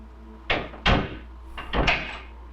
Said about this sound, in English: The detective would lock the door and leave